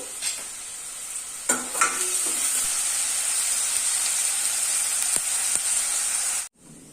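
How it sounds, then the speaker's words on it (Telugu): Onions fry and are stirred in a pan for gongura chicken, a loud, even sizzle with a few spoon scrapes early on, then the sound cuts off abruptly near the end. "మనకి ఆనియన్ అయితే ఫ్రై అయిపోయింది"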